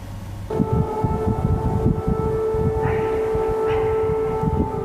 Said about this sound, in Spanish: Sonaban las sirenas en Kiev y los habitantes de la capital ucraniana sabían lo que vendría minutos después